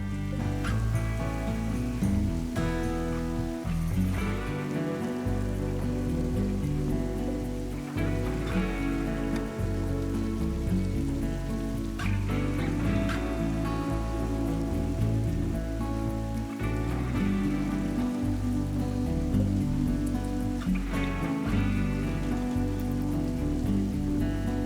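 Steady rain falls in the colony-building game Rimworld, a continuous wash of patter on surfaces running throughout, mixed under a layered musical score with recurring low thumps.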